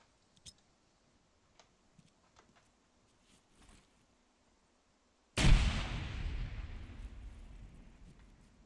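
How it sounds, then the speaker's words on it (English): A grenade detonates during military-style grenade training in a video game: a few faint ticks and clicks, then one sudden loud blast that rolls off into a long, fading rumble. "Grenade out southwest."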